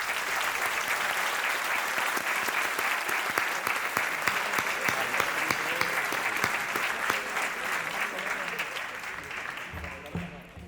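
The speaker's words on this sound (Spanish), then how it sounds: "a la que recibimos con un fuerte aplauso" Steady, loud applause from an audience welcoming Gijón's culture councillor, Ana Montserrat López, at the Cantar presta muncho 2026 event, a dense clapping roar sustained for about ten seconds before thinning at the very end.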